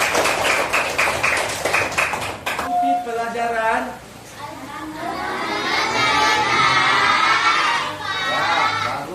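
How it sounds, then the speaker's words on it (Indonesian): Young pupils in a classroom clap and shout, a noisy burst of clapping and children's voices that swells and lingers, with an adult voice speaking at the start. "Tepuk tangan dulu sama mereka."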